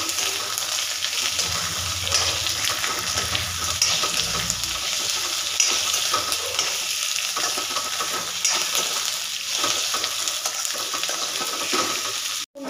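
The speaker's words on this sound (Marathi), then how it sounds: "आपली सगळी तोंडी टाकायची आणि ती पण क्रिस्पी होईपर्यंत चांगली व्यवस्थित परतून घ्यायची" Ivy gourd pieces frying in a pan for a simple vegetable dish, a loud, steady sizzle with continuous stirring scrapes close up throughout, with no talking.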